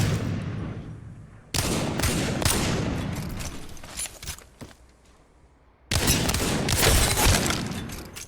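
Wingman pistol from a video game firing in rapid bursts of loud, close shots, with heavy recoil bangs cut by a short lull before the shooting resumes.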